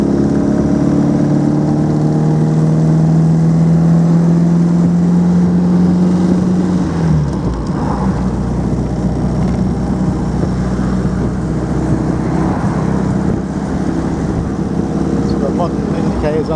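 Restored 1950 MG TD classic two-door car driving, a loud steady engine drone close to the microphone with a sustained low tone that drops away partway through, then a continuous rumbling run on the road.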